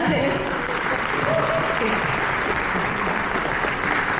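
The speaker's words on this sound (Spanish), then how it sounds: "un bien merecido aplauso a la comunidad" Audience applause for a community initiative at a university innovation event, a steady wash of many hands clapping throughout with some murmured voices mixed in underneath.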